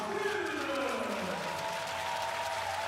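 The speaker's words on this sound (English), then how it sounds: "And a nice cheer to welcome her" An athletics stadium crowd cheers and claps in welcome for a hurdler at a continental tour meeting in Zagreb, a broad, steady roar from afar with a faint voice underneath.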